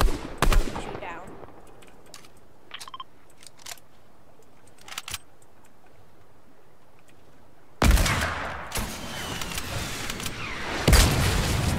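Video-game gunfire as a player fires downward at an opponent in a battle-royale lobby: scattered sharp shots early, then dense loud bursts of rapid fire in the second half.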